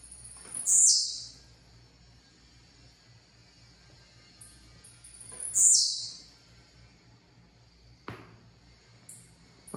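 A caged pet tiziu, a blue-black grassquit songbird, gives two short, high, buzzy calls about five seconds apart. A faint click follows in an otherwise quiet room.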